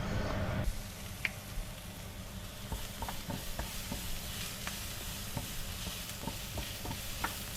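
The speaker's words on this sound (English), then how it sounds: "then frying them in a pan for a few minutes until golden" Prawns fry in a hot pan with a continuous close sizzle, punctuated by scattered clicks and scrapes as the pan is stirred.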